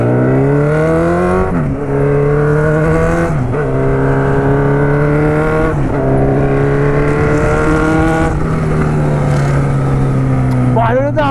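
A Suzuki B-King motorcycle with an aftermarket exhaust at Interlagos circuit roars loudly and close, revving up repeatedly through several gear changes with brief dips between shifts, and the engine note dominates throughout.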